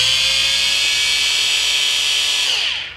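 A handheld high-speed grinder fitted with a metal bit whines steadily at its slowest speed, a sustained close tonal buzz that holds evenly and then spins down near the end.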